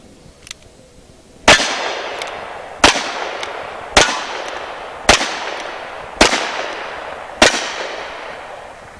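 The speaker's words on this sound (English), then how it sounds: "So let's watch this old gun in action." An old Colt-style single-action revolver fires six sharp, loud shots at roughly even intervals, each crack trailing off in a short outdoor echo, with no talking.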